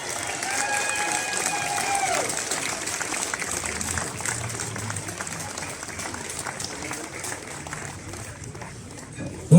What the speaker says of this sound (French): Je crois que vous pouvez vous applaudir déjà.